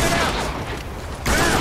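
Gunfire in the Spec Ops: The Line video game, a loud, dense burst of shots that eases briefly and then surges again, close and harsh.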